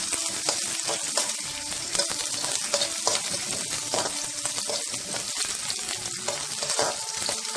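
Raisins fry in hot fat in a pan and are stirred while making a Vishu nendrapazham wheat pradhaman payasam: a steady, close, continuous sizzle with soft stirring scrapes throughout, no voices.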